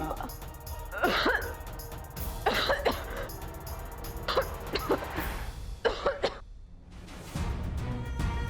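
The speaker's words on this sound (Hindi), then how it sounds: "जरा सी धुएं से खांसी शुरू हो जाती है।" Repeated bursts of coughing triggered by smoke, several harsh hacks spaced across the clip with throat clearing between, fairly close, no talking.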